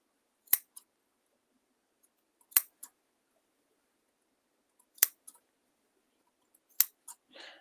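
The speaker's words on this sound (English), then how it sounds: "Gotta do some snipping." Four sharp scissor snips trimming sewing threads, spaced a couple of seconds apart, each a quick crisp double click, close and fairly quiet, with a brief rustle at the end.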